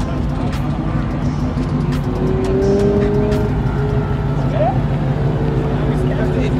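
Dodge Hellcat widebody accelerating hard on a valley cruise, its engine a loud, low, continuous roar rising in pitch from inside the car as passengers talk and shout over it.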